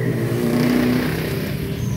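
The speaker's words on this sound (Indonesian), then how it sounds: "Nah sekarang kita mencoba untuk menghidupkan mesinnya." A Honda Beat ESP motorcycle engine starts and settles into a steady, close idle hum that runs without pause, with no talking over it.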